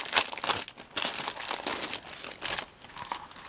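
A pack of scrapbook paper sheets being handled and flipped, giving close, irregular crinkling and rustling bursts with brief pauses between them.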